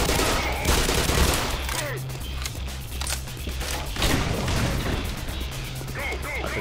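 Explosions and bursts of gunfire in the shooter game Black Mesa, loud crackling blasts and rapid pops layered over a low rumbling drone, with heavy hits around the start and middle.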